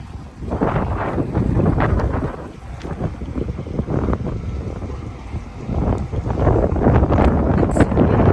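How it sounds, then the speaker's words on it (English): Strong wind in Valletta buffets the microphone with a steady, loud roar and rumbling gusts that swell and ease over several seconds, with faint water and wave wash beneath. "It's really windy today."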